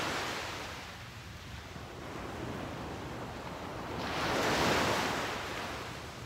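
Ocean waves washing onto a beach, a steady broadband rush with one fuller swell breaking and receding near the end, no voices.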